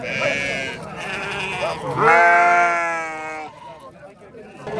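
Sheep bleat loudly and close at a livestock market in Yaypan, Fergana. One long wavering bleat stands out among other animal calls and crowd noise, and people talk nearby.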